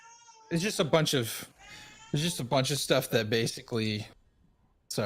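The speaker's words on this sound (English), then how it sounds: "That was my cat." A cat meows in the background of an indoor conversation, its cries brief and partly overlapping the speech, mostly in the gaps between the talking.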